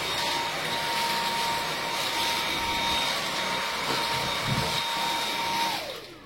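A Dyson V8 Absolute+ cordless vacuum cleaner runs at full power indoors, a loud steady whine with broad airy rush and a constant high tone, close and alone, winding down at the end.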